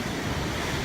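Ocean surf rolls at Westhampton Beach in the Hamptons, heard as a brief, steady, loud wash of breaking waves mixed with wind rumble on the microphone.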